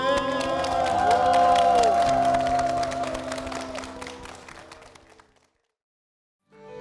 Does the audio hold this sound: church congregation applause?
yes